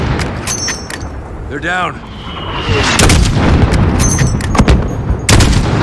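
Rapid gunfire and heavy booms in a Call of Duty Modern Warfare firefight on the Highway of Death, loud close shots in irregular bursts over continuous battle rumble, with a voice speaking briefly over it.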